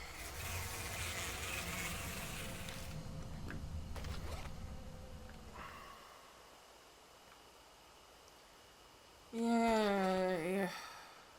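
Bees buzz in the video game Spirit Hunter: Death Mark, a steady insect drone for several seconds that fades away, followed by a short rising tonal game sound, with no talking.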